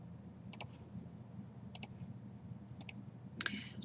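Quiet double clicks of a computer mouse while working in Inventor CAD software, three crisp pairs spaced apart and then a final click, close and faint over a low room hum, no speech.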